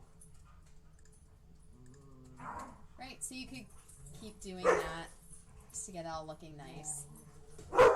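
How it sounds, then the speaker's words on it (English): Dogs in the background of an indoor lab space let out intermittent whimpers, yips and a couple of sharp barks, fairly close, while a person talks over them. "apologize for the dogs making noise."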